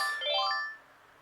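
A thrift store telephone plays its ringtone, a short bright electronic warble of a few rising tones that lasts under a second and then fades out.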